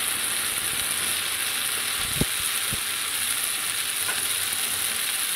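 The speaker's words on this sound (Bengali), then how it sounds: "এবার কাঁচা লঙ্কা চেরা আর একটা টমেটো কুচি দিয়ে দিলাম।" Slit green chilies and chopped tomato fry in a pan with a steady, close hiss, and a couple of soft utensil taps sound over the sizzle.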